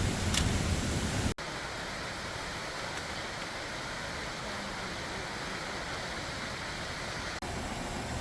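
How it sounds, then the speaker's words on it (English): Steep waterfall along the Pacific Crest Trail near Cascade Locks, dropping into a big pool. It makes a continuous, fairly loud broadband roar with no clear breaks and no one talking. "just a bunch of beautiful steep drop waterfalls into great big pools of water"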